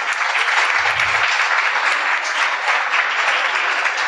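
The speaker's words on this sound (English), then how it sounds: "one big round of applause for all the DSMS students" Audience applauding for DSMS students at a morning event, a steady, dense roar of clapping from a sizable crowd that holds evenly for the whole stretch without talk.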